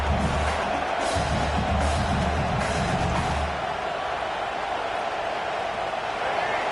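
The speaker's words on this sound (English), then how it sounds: "This crowd, full throat, splitting the eardrums and letting them know it's going to be a long day." A packed football stadium crowd roars loudly and continuously, a dense wash of cheering that swells, then holds steady, with a commentator's voice over it.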